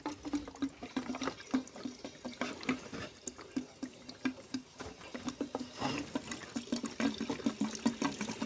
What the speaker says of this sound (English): It's the first gallon of E5 going in.